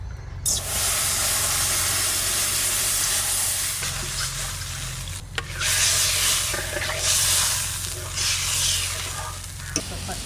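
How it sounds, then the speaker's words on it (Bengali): Water poured into a hot wok after frying koi fish erupts into a loud, broad steam hiss and sizzle that surges and wavers for several seconds close by. "মাছ ভাজা হয়ে গেছে, এবার কড়াইতে জল দিয়ে দেবো।"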